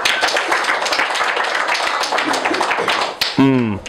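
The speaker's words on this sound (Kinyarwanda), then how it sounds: "Reka twongere dukomere Imana amashyi" A church congregation claps for God in a dense, rapid burst of many hands that fills the room, then breaks off as a voice rises at the end.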